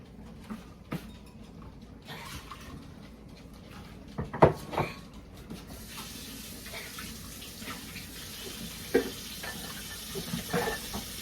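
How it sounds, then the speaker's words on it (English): Cold water runs from a tap into a bowl at low volume, with a few sharp clinks and clatters of ice cubes dropping in. "dump in a cup or two of ice cubes and fill it with cold water"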